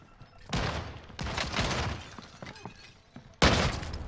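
Rapid gunfire from the video game Call of Duty: Modern Warfare comes in three loud, harsh bursts separated by brief lulls, the last one abrupt and close.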